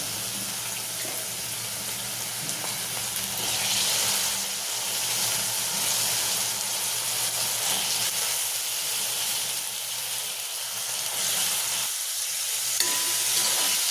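Potatoes added to fenugreek frying in a pan give a loud, steady sizzle and hiss, with soft stirring scrapes underneath that stay close and unbroken throughout.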